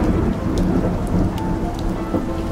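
Thunderstorm from a Call of Cthulhu trailer: steady heavy rain with rolling thunder filling the whole stretch, dense and close, no voices.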